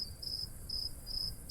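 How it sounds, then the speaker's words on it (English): Crickets chirp in steady repeated bursts, high and thin over a faint quiet background hiss. "crickets"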